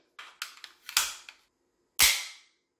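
An alarm pistol launcher loaded with a cartridge and ball gives several light metallic clicks during handling, then one sharp, loud report that decays quickly.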